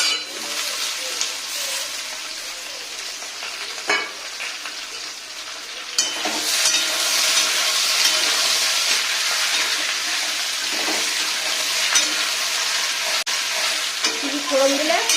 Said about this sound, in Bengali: ফোড়নকে সব ভাজাগুলো সব দিয়ে দিলাম।